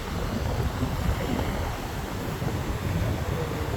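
Steady wind and churning waves at sea roar continuously, a dense broadband rush with low rumbling from the water and no voices.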